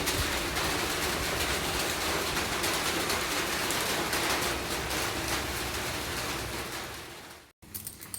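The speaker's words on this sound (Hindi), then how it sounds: "बाहर मौसम भी थोड़ा बारिश का है" Monsoon-season rain falls outside in a steady broadband hiss that holds evenly for most of the stretch, then fades and cuts off briefly before resuming faintly.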